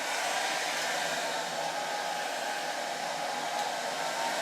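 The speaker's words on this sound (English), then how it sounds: "Now I'll set the hairdryer first to our first lowest level with its heat." A hair dryer runs steadily on its lowest heat setting, drawing about 1100 watts from a portable battery power station, giving a constant, loud broadband whoosh with no pauses and no voices for the whole stretch.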